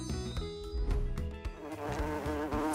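A large bee buzzes with a droning, flapping whine under a busy musical background, steady and fairly close for a few seconds.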